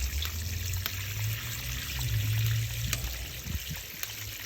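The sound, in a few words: water filling bullet smoker water pan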